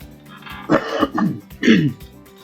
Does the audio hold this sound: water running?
no